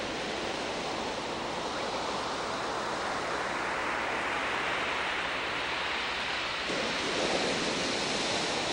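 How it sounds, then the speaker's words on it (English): Big ocean surf roars in a steady, dense wash of noise, loud and continuous, with no voices. "The roar of that ocean. I hear the roar."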